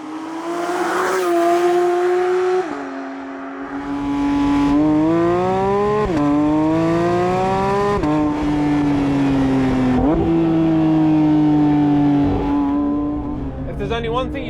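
A Porsche 911 GT3 Touring engine revs hard through the gears, its pitch climbing steeply and dropping at each upshift, loud and close from the cabin, with a voice talking over parts of the run.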